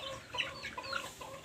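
Backyard chickens cluck faintly in a quick irregular series of short calls, with no talking, over low outdoor background noise.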